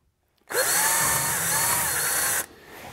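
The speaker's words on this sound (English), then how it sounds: "So let's try not to break this drill bit." A power drill whirs loudly for about two seconds, biting steadily into a wooden sink cabinet, then stops abruptly.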